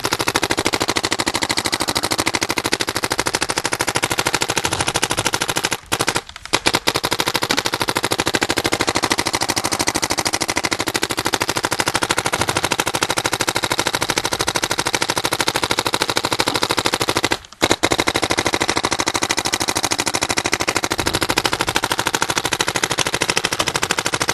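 A 2009 Proto PMR paintball marker with a Dye I4 setup fires rapidly with the trigger held down, a dense, continuous buzz of shots close up, broken by two brief gaps, with no talking.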